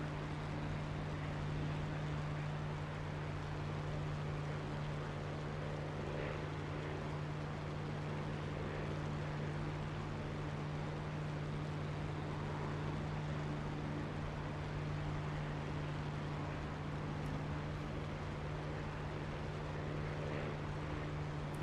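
Piston aircraft engine droning steadily in flight at reduced RPM with about 4 boost, a constant loud hum with a strong low tonal band throughout and no speech.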